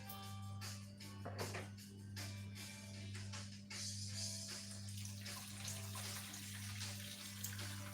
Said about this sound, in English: I'm gonna pop my water right in there.